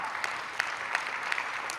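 Audience clapping at a speech to a policy conference, a steady, moderately loud patter of many hands with faint rhythmic peaks, no voice heard over it.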